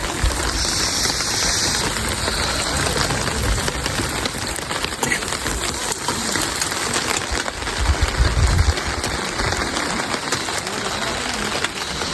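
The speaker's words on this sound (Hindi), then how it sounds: "कम हो गई अब बारिश।" Steady rain falls in the Himachal hills around Bahu and Jibhi, a dense continuous hiss with pattering drops on surfaces, loud and close throughout with no pauses.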